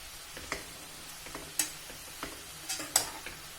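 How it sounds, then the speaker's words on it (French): Quiet spoon scrapes stirring a zucchini tart mixture with tuna in a bowl, a few sharp clicks and soft swishes spaced irregularly, close and faint with no voices. "Donc on mélange tout ça."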